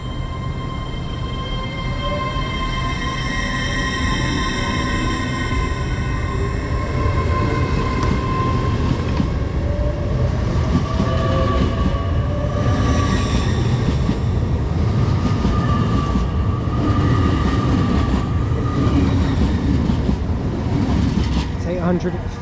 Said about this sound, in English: off goes the delayed 1709 Great Western Railway service from Bristol Temple Meads to London Paddington